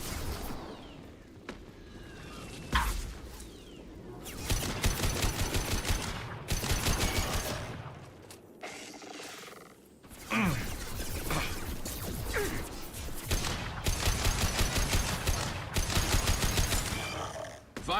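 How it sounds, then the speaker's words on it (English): Gunfire in Mass Effect 2, bursts of rapid shots and impacts coming in clustered volleys with brief lulls, loud and busy over game background noise. "Firing a high-impact shot."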